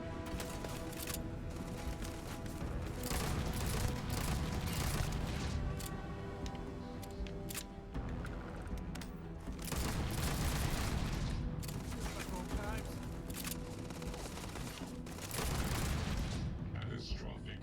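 Sci-fi weapon fire in a Starfield gunfight, with repeated bursts of shots and booms in bunches over steady game sound, broken by short pauses and mixed with in-game voices.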